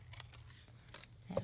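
Scissors snipping through a book page, a few faint, quick cuts in a quiet room, the last snip slightly louder.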